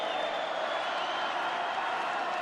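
A rugby stadium crowd at Bankwest Stadium during an Argentina v New Zealand Tri Nations match roars and cheers, a dense, steady wall of distant voices and applause.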